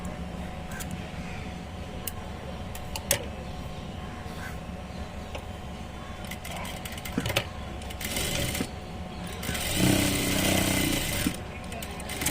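Sewing machine stitching along fabric edges during tailoring of a gathered petticoat, a close rapid mechanical whirr in bursts with brief pauses, running under a person talking.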